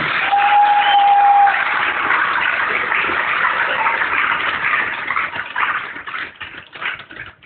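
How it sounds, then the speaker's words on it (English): A gymnasium crowd at a school wrestling event applauds for a departing Crestwood athletic director, a dense, steady wash of clapping that holds strong and then thins and fades toward the end. "Let's have a round of applause for outgoing Crestwood athletic director Steve Matthews"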